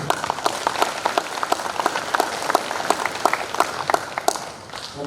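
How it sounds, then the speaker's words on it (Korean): An audience at a memorial ceremony for national patriots claps in thanks, a steady burst of many hands applauding that fades toward the end, heard alone. "우리 이분들께 감사의 큰 박수를 보내주십시오"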